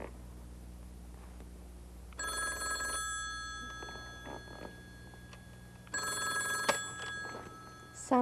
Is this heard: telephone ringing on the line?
yes